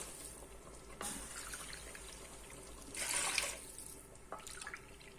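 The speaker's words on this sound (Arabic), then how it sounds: "وهنايا نسقي 3 عبار تاع ماء، ما يكون دافي." Warm water is poured into a pot in three measures for cooking rice, a soft trickling and splashing that swells in short bursts over a low background hiss.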